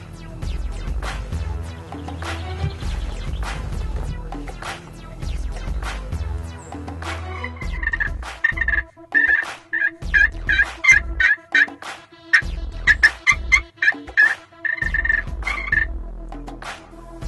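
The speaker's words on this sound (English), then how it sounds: "we had one fired up behind us that's gobbling his head off." A wild turkey tom gobbling behind hunters in an Indiana field, loud repeated gobbles in bursts close by, with rattling, croaking calls mixed in and no talking.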